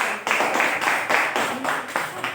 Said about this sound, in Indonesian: Kasih aplaus untuk Alif Laras Anugrah